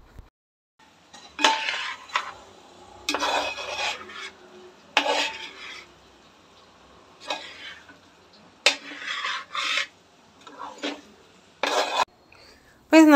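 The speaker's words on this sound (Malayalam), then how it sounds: "ഞാനൊന്ന് ഇളക്കി എടുക്കുന്നുണ്ടേ." Chicken curry being stirred in a pan, starting to release its water: repeated scraping strokes of a utensil against the pan come in bursts with short quiet gaps and a clink near the end.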